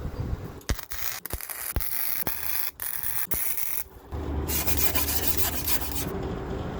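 Welding a patch over a drain hole on a Jeep YJ body with a ground clamp attached: a steady crackling, hissing arc that runs in several bursts broken by short pauses, then a louder, denser stretch toward the end.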